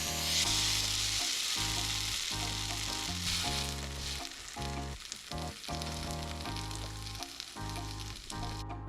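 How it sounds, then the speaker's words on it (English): French toast sizzles steadily in a frying pan, a loud, continuous crackle and hiss heard up close, with no one talking. "Once our toast has been sizzling away for a while, we're going to check the underside"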